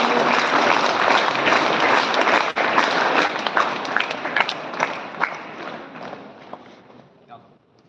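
Audience applause as a guest comes onto the stage at a school event, a dense, steady clapping from a crowd that holds for several seconds, then thins and fades toward the end.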